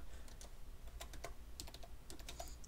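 Someone types on a computer keyboard, a quiet, close run of quick, irregular key clicks with no talking.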